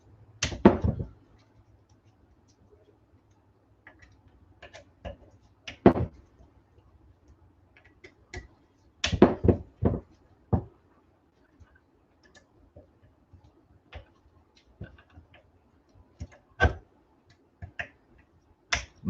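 Precisely torqued screws on a servo motor are broken loose one by one, producing sharp, isolated cracks and clicks, some doubled, separated by quiet gaps.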